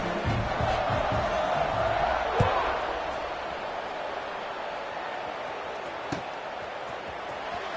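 Steady, distant stadium crowd roar in a college football video game, a constant wash of noise with a couple of faint thuds, no clear speech over it.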